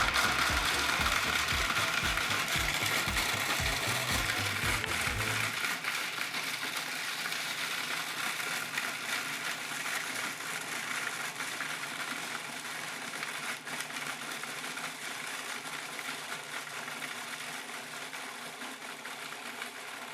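A kitchen grinder runs continuously, grinding pretzels into powder with a loud, harsh, rattling whir. A deep rumble drops away after about five seconds, leaving a steady, hissing mechanical churn that carries on alone.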